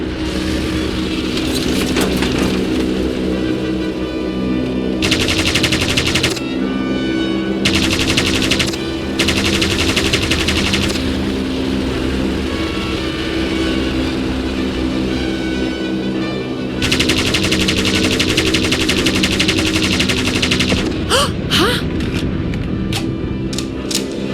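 Vickers machine gun firing in bursts during an aerial dogfight, loud rapid chattering volleys that stop and start, with engine roar running underneath throughout.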